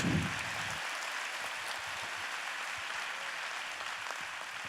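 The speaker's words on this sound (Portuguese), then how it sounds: "Que tal dar mais um aplauso a Jesus, o nosso Deus?" A church congregation gives a round of applause to Jesus during a sermon, a steady wash of many hands clapping at moderate distance, even and sustained throughout with no voices above it.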